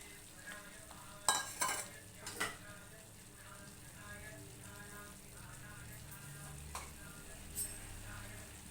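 Vegetable kurma curry cooks in a pan with a soft, continuous sizzle and a few sharp utensil clinks near the start, quiet and close, while a voice talks faintly now and then.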